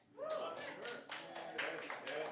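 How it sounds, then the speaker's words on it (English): An audience at a St. Louis show claps in a quick, uneven patter of hands, a moderate roomy clatter running about two seconds while a voice carries on underneath. "I hear more people clapping than booing,"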